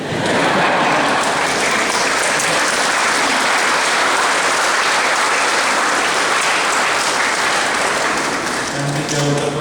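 A church congregation applauds at the inauguration of a new parish, a loud, unbroken roar of many hands clapping that fills the space and carries on steadily throughout.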